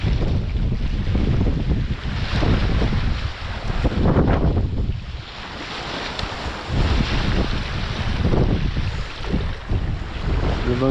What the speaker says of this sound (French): Le vent souffle un peu dans le dos.